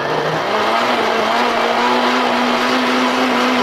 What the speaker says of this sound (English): I don't have to rock the mixer around or the blender around so much anymore.